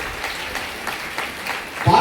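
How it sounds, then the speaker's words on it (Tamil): Audience applause welcoming a debate speaker at a college founders' day event, a short burst of steady clapping heard under a speaker's voice. "கைதட்டலோடு ஆரவாரமாக அவர்களை வரவேற்க வேண்டும்."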